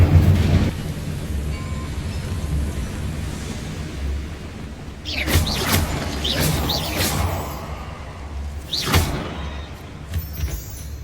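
An Incendio fire spell strikes a boiler in Hogwarts Legacy, giving a deep rumbling blast with a crackling whoosh over a steady low hum, followed by sharper flaring bursts a few seconds later.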